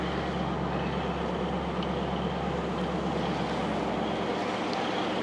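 A 1956 Ford Thunderbird engine left running, giving a steady low rumble that holds evenly throughout at close range.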